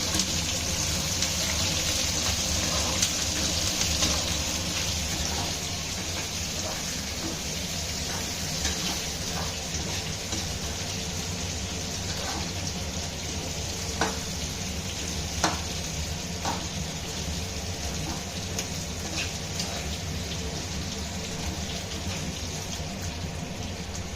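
Onions sautéing in a pan, giving a continuous, even sizzle with faint clicks of stirring throughout.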